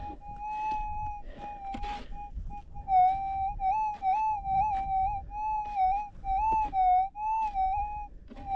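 A metal detector over buried gold in a rubbish patch gives a wavering electronic whistle tone that rises and falls in pulses, steady and fairly clear, with faint scraping underneath.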